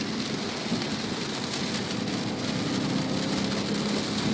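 Heavy rain pours steadily with a dense hiss, while a low rumble of thunder rolls underneath throughout.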